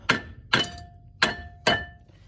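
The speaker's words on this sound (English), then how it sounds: "So now you want to hammer it or just tap it with the tool." Four sharp metallic taps from a hammer on a Brembo brake part on a Dodge Charger RT, close by, in an uneven rhythm with brief ringing after each strike.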